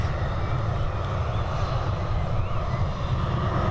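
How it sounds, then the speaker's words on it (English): A Boeing 737 airliner departing Dublin for Nuremberg makes a brief, steady engine roar with strong low rumble, consistent in level and unaccompanied by speech. "Here we've got this Boeing 737 heading over to Nuremberg."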